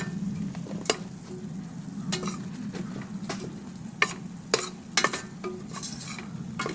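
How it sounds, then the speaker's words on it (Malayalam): Spices like garam masala and turmeric stirred into an egg biryani mixture in a pan: soft scraping and occasional light spoon clinks against the metal over a low, steady background, with no talking. "ഇതെല്ലാം ചേർത്ത് നന്നായിട്ട് ഇളക്കി കൊടുക്കുക."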